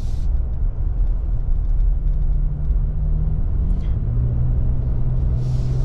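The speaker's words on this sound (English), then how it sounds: "this naturally aspirated V6, such a nice linear torque delivery, gets you up to speed so easily" A 2024 Nissan Frontier Pro-4X pickup with a naturally aspirated V6 accelerates, heard as a steady, loud low engine drone and road rumble that rises slightly in pitch toward the end, with no talking.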